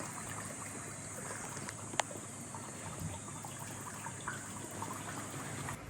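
Bottled filtered water poured steadily into a container, a continuous close splashing stream with one brief clink partway through.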